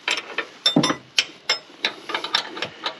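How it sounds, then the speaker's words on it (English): Wrench ratcheting on a nut and bolt in a tight spot on a Woodland Mills TFG55 PTO 5-inch wood chipper, a series of sharp metallic clicks in an uneven rhythm, close and alone. "I think I'm turning both the nut and the bolt at the same time"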